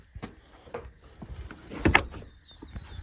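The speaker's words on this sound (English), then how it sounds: "Let me close the door." A door on a homestead pump house is pulled shut, a few scattered knocks and rattles building to a sharp, close latching thud near the end, with no talk.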